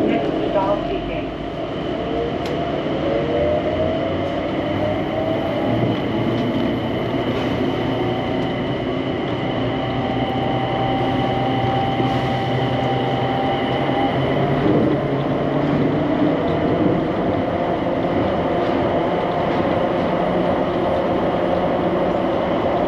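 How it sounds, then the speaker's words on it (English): An airport shuttle train at Washington Dulles International Airport rumbles and hums steadily as it pulls away, with a rising electric whine and faint wheel noise, and a voice speaks over it. "The train is departing."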